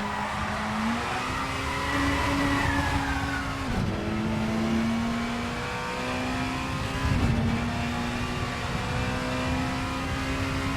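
Touring car engine in the Assetto Corsa racing game with the VRC Super Touring Car Pack, a loud, sustained droning rev that dips and climbs through gear changes, with tire squeal as the car drifts.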